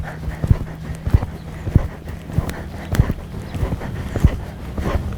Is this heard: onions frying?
no